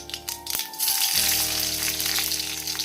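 Nigella seeds and green chillies drop into hot oil in a kadai, and a sharp sizzle bursts out, then settles into a loud, continuous frying crackle.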